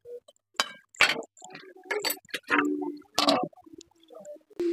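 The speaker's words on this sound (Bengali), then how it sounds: "ফুলকপিটা ভালো করে কষিয়ে নিই।" Cauliflower being stir-fried in a pan with spice masala, heard as irregular clinks, scrapes and clatters of the spatula against the pan in short bursts separated by quiet gaps, close and fairly loud, with no voices.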